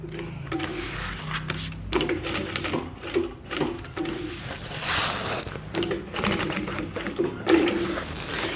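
Stitching a fabric bag and its strap on a sewing machine makes a continuous, fairly loud rattling hum close by, with small rhythmic knocks and handling noises throughout.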